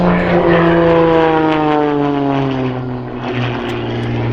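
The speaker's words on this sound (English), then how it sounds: "He's going to pull up, he's going to show us the top of the airplane, and there he goes." An aerobatic propeller airplane at an airshow pulls up with a loud, droning engine roar whose pitch slides steadily downward as it climbs away. The roar is strong and continuous, with no voices.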